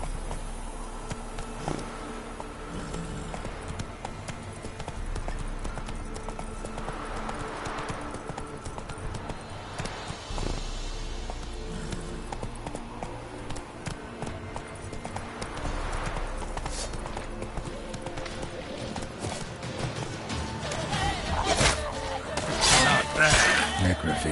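Geralt's horse Roach galloping in the video game The Witcher 3, steady hoofbeats under constant game ambience and music that grows louder toward the end, with some speech mixed in.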